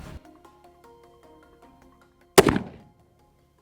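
A single sharp, loud shot from a .277 Fury rifle hits an animal target, following a faint tonal ringing and trailing into a brief decay before silence.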